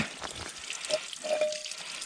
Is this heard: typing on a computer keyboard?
no